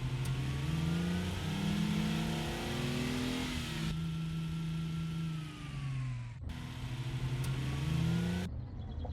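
Engine of a vehicle driven in the modded 7 Days To Die Alpha 18 game, a steady loud mid-pitched drone that rises and falls through gear-like pitch shifts with abrupt cuts, no voices.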